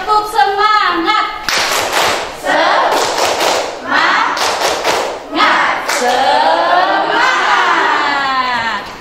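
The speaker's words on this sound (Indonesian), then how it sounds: "Kita mulai, tepuk semangat." A classroom of standing students performs a rhythmic clapping chant, bursts of sharp, closely spaced claps alternating with loud group shouting and chanting voices, ending in a final energetic cheer.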